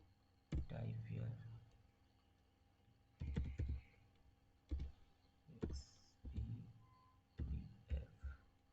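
Keystrokes on a computer keyboard come in short clustered bursts separated by pauses, fairly close and moderately loud against a quiet room.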